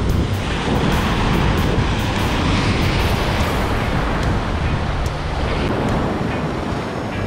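Strong ocean waves surge and break continuously along a Palawan shoreline, a loud, dense roar of surf mixed with gusting wind buffeting the microphone, steady throughout with no voices.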